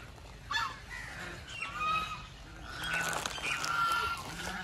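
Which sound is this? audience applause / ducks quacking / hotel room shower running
ducks quacking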